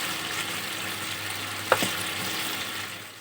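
Ginger and green chilli paste with a pinch of cumin powder frying in hot oil for a village-style chhana dalna: a steady close sizzle throughout, with a brief clatter of stirring midway.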